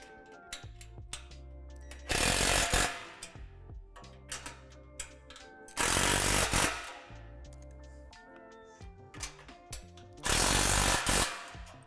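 Three loud bursts of a power driver tightening bolts while assembling a Lifetime Adventure Tower Deluxe playset, each lasting about a second, separated by quieter clicks and handling of hardware.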